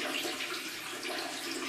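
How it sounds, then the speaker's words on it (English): Water rushes steadily out of the opened sluice of a water-powered lift in England and runs back into a stream. The broadband flow is even and continuous, close and fairly loud, with no talk. "We shall now open the sluice at the bottom of the rod and allow the water to flow back into the stream."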